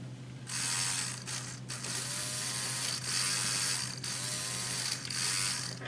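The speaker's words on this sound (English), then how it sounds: "See, this is the forward and backwards motor here." A small forward-and-backward drive motor in a junk-built toy robot whirs with a grinding, gear-rattling buzz in several close bursts, stopping and restarting between them, with a steady low hum underneath.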